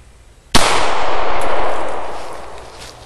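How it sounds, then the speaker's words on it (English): A single loud 9mm Glock full-metal-jacket gunshot strikes a Kevlar helmet at close range, a sharp crack and metallic clang followed by a long ringing decay that fades over a few seconds, with no talking. "Let's go ahead and shoot it with a 9. Be a Glock, standard FMJ."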